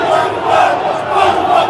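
Corinthians supporters roar as one dense crowd in a packed stadium after a goal, a steady swelling wall of cheering and chanting with no clear gaps.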